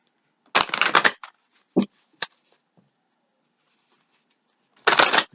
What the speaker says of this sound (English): Do a couple shuffles.